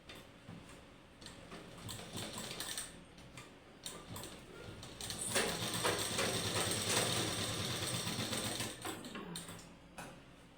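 A sewing machine stitches the front part of a blouse with a soft, rapid mechanical ticking and whirring that grows steadier and louder midway, then slows and stops.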